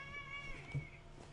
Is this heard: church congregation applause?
no